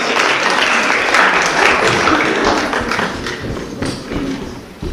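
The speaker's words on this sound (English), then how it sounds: "give him a round of applause!" An audience applauds at an improv comedy show, dense steady clapping filling the room, strong at first and slowly thinning out toward the end.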